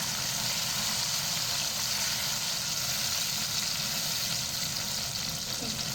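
Paste of ground onion, tomato and green chilli frying in a pan, a soft, steady sizzle with a faint low background hum, no talk.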